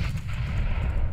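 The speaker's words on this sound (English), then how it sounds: "Molotov. Grenade. What? Grenade." Grenade explosion in Counter-Strike: Global Offensive, a deep, dull rumbling boom that stays steady and fairly loud through the short moment.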